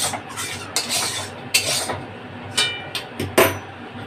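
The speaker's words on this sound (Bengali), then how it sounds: "কড়াইটা বসিয়ে দিলাম" A metal kadai, a wok-like pan, is set down on a kitchen stove while cooking jackfruit with chicken, giving several sharp clanks and scrapes spaced irregularly over a few seconds, close and fairly loud, with no talking.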